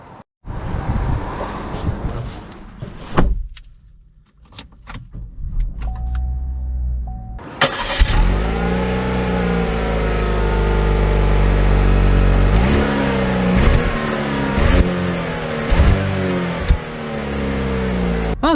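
A 2022 Chevy Trax AWD's engine starts up after some cabin clicks and a power window, then the engine revs and pulls away through gear changes as the car drives, loud and close from inside.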